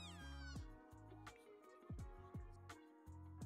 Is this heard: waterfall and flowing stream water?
no